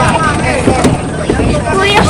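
Ketek motorboat carrying a motorbike across a river in an Indonesian village, its engine a steady close drone buffeted by wind noise, with a voice speaking over it.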